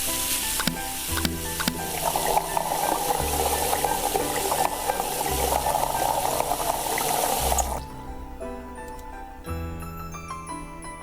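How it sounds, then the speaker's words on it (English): Potatoes in a pot of water in the Cooking Simulator video game, a steady hiss and bubbling with clinks and kitchen clatter, loud for most of the stretch and then dropping away to quieter background sounds. "all of these potatoes would be perfectly covered with water, but it's not going to happen. So I'm going to let them boil up"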